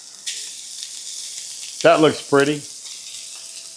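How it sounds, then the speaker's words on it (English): Prime cowboy burgers sear in a shallow layer of hot beef tallow in a pan, giving a steady crackling sizzle throughout, with a brief spoken comment over it. "Got a good sizzle on it."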